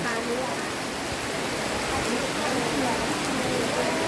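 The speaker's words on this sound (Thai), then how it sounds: "ฝนตกนะคะฝนตกค่ะ" Steady, dense rain hissing down throughout, a constant broadband wash with faint voices murmuring underneath.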